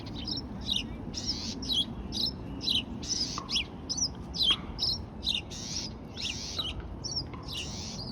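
A sparrow, either a house sparrow or a white-crowned sparrow, gives repeated sharp chirps in quick bursts over a low, steady outdoor rumble.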